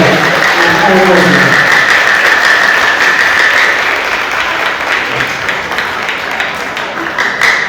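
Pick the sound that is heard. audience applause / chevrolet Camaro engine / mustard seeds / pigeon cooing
audience applause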